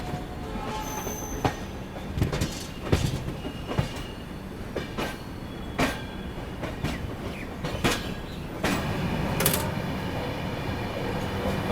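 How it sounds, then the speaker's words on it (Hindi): The Howrah Rajdhani Express at high speed on its nonstop run toward Kanpur, heard from inside as a steady rolling roar with repeated rail clicks, clatters and brief wheel squeals. "जब अपनी ट्रेन बिल्कुल हाई स्पीड में चलती है"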